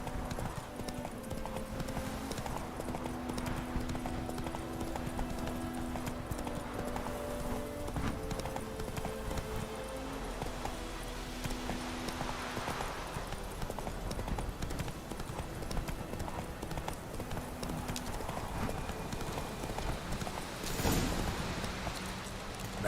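A horse's hooves trot in a steady clip-clop rhythm in The Witcher 3: Wild Hunt, close and continuous over a game soundscape, with a brief whinny and occasional faint speech.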